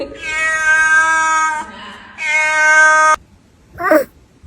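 Two long, drawn-out cat meows, loud and close, follow one another with a short pause, then a brief higher chirping meow trails off into quiet.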